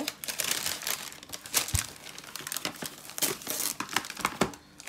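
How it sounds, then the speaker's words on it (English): Regular plastic wrap crinkles and crackles close by as it is handled and pressed over a tray of food, with irregular bursts of rustling and a few sharper snaps over about five seconds. "This is just regular plastic wrap. I am going to place on top like so."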